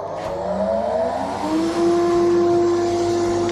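A workshop chip extraction machine starts up, its motor whining and rising in pitch before settling into a loud steady hum with airflow rush.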